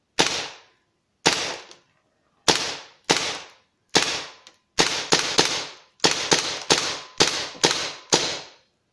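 A WE Desert Eagle gas airsoft pistol fires about twelve sharp, close cracks, first spaced singly and then in quicker pairs and bursts, each with a short decaying tail, and no talking.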